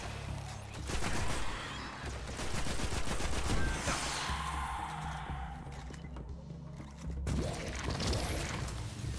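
Repeated weapon fire in the sci-fi shooter Destiny, rapid sustained bursts over loud game effects and a steady low rumble, continuing for most of the stretch with a brief lull near the end.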